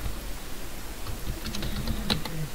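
Quiet keystrokes tap on a computer keyboard while text is entered, a short run of light, irregular clicks with a couple of sharper key presses near the end, no speech.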